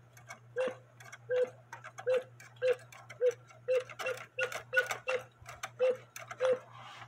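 A George cuckoo quail clock, under repair for its bellows and weights, gives a steady run of quiet, evenly spaced calls with a faint mechanical tick and a low steady hum beneath.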